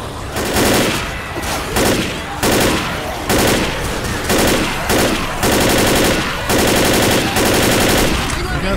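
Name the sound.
gunfire from the video game Left 4 Dead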